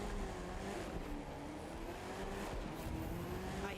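A truck engine drones in the racing game The Crew 2, a faint steady motor hum with shifting pitch as it drives on, accompanied by a quiet whine of tires and wind.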